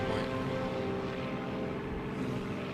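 An enemy propeller plane in the WWII flight game Air Conflicts: Secret Wars drones steadily and loudly, a close, continuous engine hum with a throbbing pulse and no talk.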